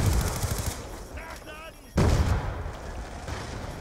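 Turret gunfire in Black Ops 2 multiplayer, bursts of rapid automatic shots, loud and close, with a brief lull before firing resumes, mixed with game sounds and a player talking.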